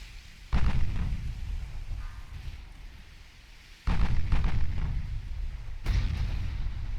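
Heavy naval guns in a warship battle game fire and strike an enemy heavy cruiser, three loud booming blasts at roughly three-second gaps, each rolling off into a rumbling tail.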